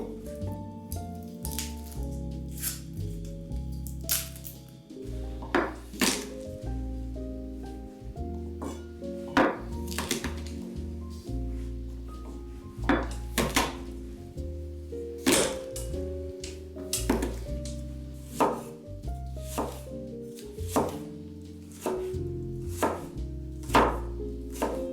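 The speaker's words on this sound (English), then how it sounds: "then chop them finely." Garlic cloves being finely chopped with a knife on a cutting board, a close, steady run of rapid chopping taps with brief pauses, no talk.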